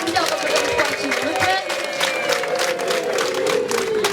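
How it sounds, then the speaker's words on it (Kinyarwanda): At a Rwandan wedding ceremony, a crowd claps and ululates, with a high warbling trill of ululation riding over continuous dense applause and a murmur of voices. "Mumumbere amashyi n'impundu"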